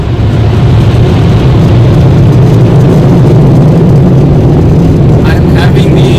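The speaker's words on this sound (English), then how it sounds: "These are the blowers that is blowing off the excess water." Car wash blowers at a Mr. Wash drying section blasting excess water off a car, making a loud, steady, close-up roar that continues without a break.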